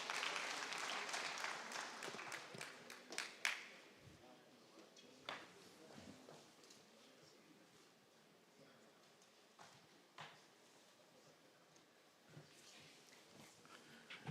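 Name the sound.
applause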